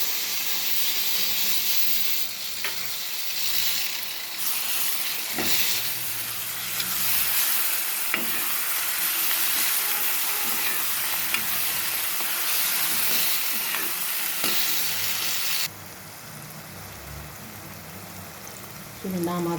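Chopped tomato and coriander sizzling in a hot pan as they are stirred, a continuous bright hiss with occasional soft scraping taps from the spoon, steady and close.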